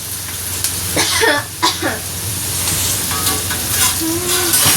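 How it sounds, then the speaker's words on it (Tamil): Food frying in a pan while being stirred often so both sides cook evenly, a steady close sizzle with scraping stir strokes and a few coughs and throat clears over it. "அடிக்கடி இப்போ கிளறி விட்டாதான் ரெண்டு பக்கம் நல்லா வெந்து வரும்"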